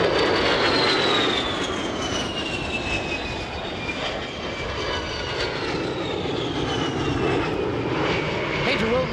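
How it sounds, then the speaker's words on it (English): An A-10 Thunderbolt II jet makes a loud, sustained engine roar as it passes along the show line at the NAS Oceana air show, with a whining tone that slowly falls in pitch through the pass. "the A-10 Thunderbolt II"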